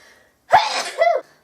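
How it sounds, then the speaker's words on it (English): A single close, loud sneeze from a person, with a quick sharp intake and then a burst of breath, alone in an otherwise quiet room. "and I'm going to sneeze."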